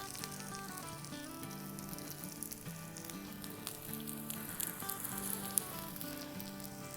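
A closed sandwich maker sits on a griddle over a low flame and sizzles in a soft, steady hiss, faint and continuous, with music quietly in the background and nobody speaking.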